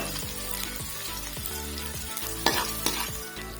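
Onion sizzling in hot ghee while a spoon stirs and scrapes the pan, steady frying crackle with a few louder clinks.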